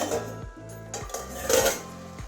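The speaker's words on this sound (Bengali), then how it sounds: "এবারে ঢাকনাটা খুলছি" Metal lid lifted off a cooking pot of simmering shapla (water lily stems) curry, giving a few clanking knocks and scrapes of metal against metal, close and moderately loud, with no talking.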